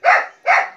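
Two sharp, loud dog barks close by, evenly spaced in quick succession.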